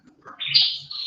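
A single bright, rising chirp from a brown-headed bird calling in the morning, clear and fairly close, lasting about a second with no voices over it.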